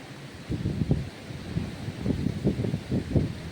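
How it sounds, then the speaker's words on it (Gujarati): Gusty wind buffets the microphone in low, uneven bursts, a rough blustery roar with no voices, during a night storm with rain and lightning. "અટાણે તો છે ફૂલ પવન"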